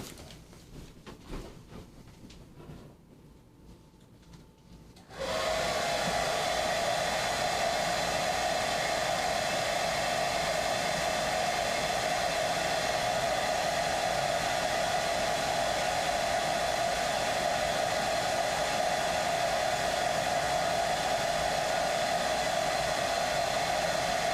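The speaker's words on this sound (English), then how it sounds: "I'm now going to take it back over to the hairdryer" A hair dryer blows on wet paint on a Warhammer Space Marine miniature cape, switching on after about five seconds of quiet and then roaring steadily and loudly with a constant airy whine.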